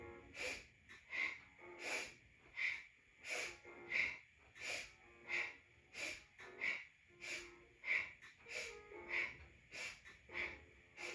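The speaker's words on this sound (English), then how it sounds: "really begin to make your breath powerful and audible" Powerful audible breathing during a yoga breathing exercise comes as about fifteen forceful, regular breaths through the nose, each a sharp snort-like rush of air, close and alone.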